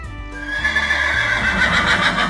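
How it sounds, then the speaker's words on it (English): A horse neighs loudly and close by, a long rising whinny with a shaky, quavering tone. "Horses love to run fast across the farm. They say, neigh."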